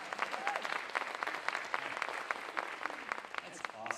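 A church congregation claps together in a steady, dense round of applause from a roomful of people, moderately loud and sustained for several seconds.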